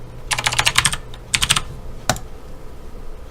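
A computer keyboard is typed on in two quick bursts of rapid, crisp keystrokes, followed by a single sharp tap and then quiet.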